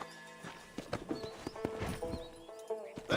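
Horse hooves clip-clop unevenly in Red Dead Redemption, with a brief whinny among the hoofbeats, fairly quiet and close.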